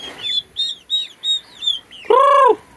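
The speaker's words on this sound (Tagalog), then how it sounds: "yung ganyang pag-iingay nila, isa yan sa mga dahilan na sila ay gutom na" Month-old turkey poults cheeping from hunger: a run of five or six sharp, high chirps spaced evenly, followed by a louder, longer, lower call, close and clear with no voices.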